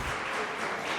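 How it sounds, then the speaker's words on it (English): A brief burst of dense applause from a crowd at a college athletics senior awards banquet, steady and full throughout the moment. "big round of applause"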